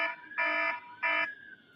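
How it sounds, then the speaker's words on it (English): Home alarm sounding in two loud, steady electronic tone bursts with harmonics, each about a third of a second long, separated by a short gap, close by with no talk. "the alarm in my home just went off"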